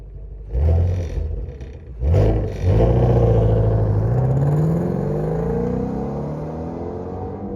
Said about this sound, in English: here's a pull with the stock exhaust with the valves closed